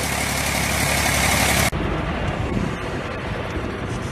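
An Eicher 485 tractor engine runs steadily while mixing brick clay, a loud mid-pitched drone that abruptly drops to a quieter, rougher idle partway through.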